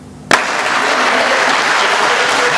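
Loud, sustained applause from a large crowd erupts suddenly and continues steadily, honouring a senior Cameroonian gendarmerie officer at a war-college graduation ceremony in Yaoundé.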